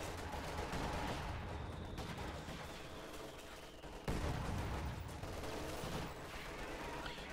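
Machine gun fire in Company of Heroes 2 rattles on in dense, continuous bursts over a busy battle din, with a sharp jump in loudness partway through, fairly faint overall.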